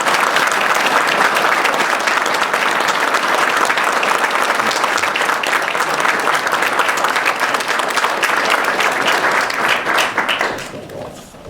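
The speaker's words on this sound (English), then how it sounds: "Give our 2014 class a round of applause." Audience at a Boy Scouts council recognition dinner applauding a class, loud sustained clapping from a large crowd that fills the room and then tapers off in the final second.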